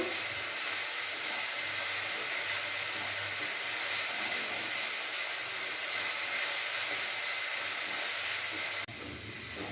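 Onions frying in a pan for Punjabi dhaba-style rajma, a steady loud hiss of oil running unbroken, dropping slightly near the end, with no talking.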